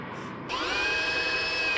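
A power drill drives 2-inch wood screws through a warped cleat into wood, starting abruptly after a short pause and holding a steady, rising whir close by.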